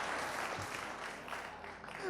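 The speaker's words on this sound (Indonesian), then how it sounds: "Tepuk tangan dulu semua" An audience at a church service claps briefly in a dense, continuous burst, with faint voices mixed underneath.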